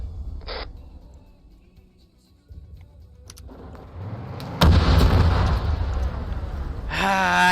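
Weapon fire in a military video game: a distant thump, then heavy booming bursts and sustained rumbling that grows louder and denser, with a voice entering near the end.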